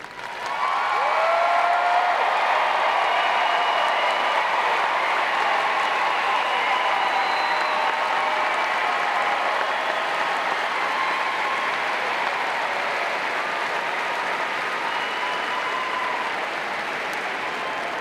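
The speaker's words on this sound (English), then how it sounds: "will you please stand so that we can applaud your accomplishments?" Sustained applause from a large audience at a Florida State University spring commencement as honors graduates stand, steady and broad from start to finish with no voices over it.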